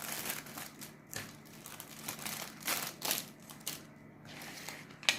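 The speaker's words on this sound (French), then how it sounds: "je vais mettre un petit peu de diamant dans mon petit bac" Small diamond painting drills are poured from a packet into a little tray, making a dry rattling, crinkling rustle in uneven bursts close to the listener, with brief quiet gaps and no speech.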